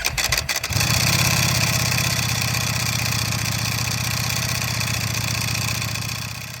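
A Ducati Panigale V4 SP2 with an open dry clutch starts up with a few sharp bursts, then settles into a loud, steady, close-up idle with a lumpy pulsing rhythm that holds for several seconds before easing slightly.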